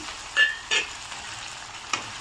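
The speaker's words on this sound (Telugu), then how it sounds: "ఇప్పుడు ఇందులోకి కట్ చేసుకున్న టొమాటో వేసుకుందాము" Chopped tomatoes tipped into a hot pan and stirred, a few sharp scraping stirs over a continuous soft sizzle, close by.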